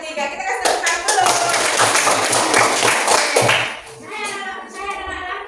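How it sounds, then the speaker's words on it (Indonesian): A classroom of pupils applauds during a lesson: loud, close clapping from many small hands that swells and lasts several seconds, then tapers off, with children's voices heard around it. "Kita kasih tepuk tangan dulu."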